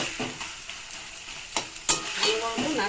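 Taro leaf curry with turmeric sizzles in a pan while being stirred without pause, with loud, close scrapes and clatters of the spoon over a constant frying hiss.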